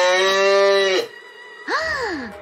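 A takin from the Qin Mountains in Shaanxi, China, gives a cow-like lowing call: one long, steady, resonant moo, a short pause, then a shorter bellow that rises and falls. It is close and loud, with no voices.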